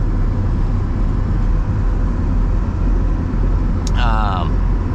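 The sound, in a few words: 1979 Mercedes 300 diesel coupe driving and shifting gears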